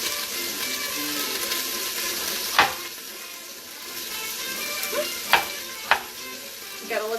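Diced onions frying in oil inside an Instant Pot, a loud steady sizzle close up with a few sharp scraping clacks of a utensil against the pot, no talking.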